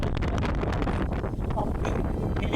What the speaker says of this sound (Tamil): கடல் காற்று அவ்வளோ நீட்டான காற்று இயற்கை காற்று